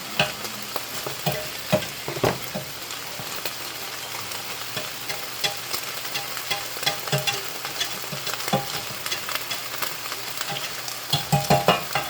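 Ground beef with cayenne pepper sizzles in a hot pan while a utensil scrapes and stirs it, giving steady close frying crackle broken by repeated scraping strokes, with no talking.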